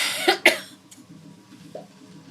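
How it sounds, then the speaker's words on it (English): A person coughs twice in quick succession, close and loud, right into the microphone, followed by quiet low background hum. "Sorry about that, didn't mean to cough."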